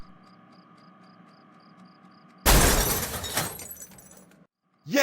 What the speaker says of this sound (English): Now it's time to smash the refrigerator with a baseball bat.